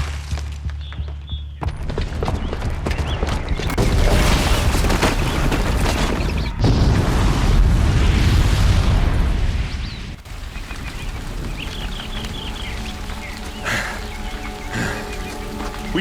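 A booby-trapped bomb exploding in the video game Horizon Zero Dawn, a sudden massive blast that roars for several seconds, then fades into rumbling debris and lighter scattered crackles.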